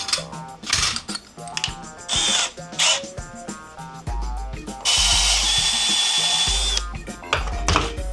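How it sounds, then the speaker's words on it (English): A power drill bores out a hole in a piece of bamboo for a custom camera mount on boat rod holders. It runs in short, close, loud bursts and then settles into a sustained high whine before stopping. "So I'm gonna bore this out"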